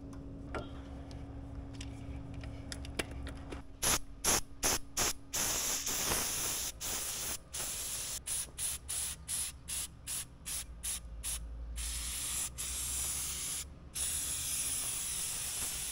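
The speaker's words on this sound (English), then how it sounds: "Now I'm just taking some PB Blaster and hitting this conceal knife" PB Blaster penetrating oil hisses from an aerosol can onto a knife in a long series of short, close bursts, some quick and choppy, others held longer, with no talking.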